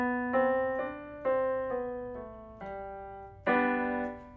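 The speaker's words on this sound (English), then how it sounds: "next let's jump into a 5-note scale. This is a major scale, so this is what it will sound like." A five-note major scale played as separate sustained tones stepping up and back down, each note struck cleanly and decaying, the last note loudest, with no voices.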